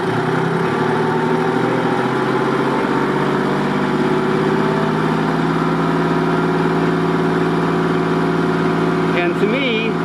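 A Kubota L2501 tractor engine fitted with an electric fuel pump runs steadily at a smooth, even drone, close and loud throughout, with a brief rise in pitch near the end.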